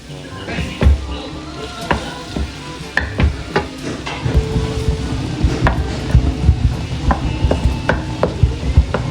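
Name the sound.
garlic frying in melted butter in a pan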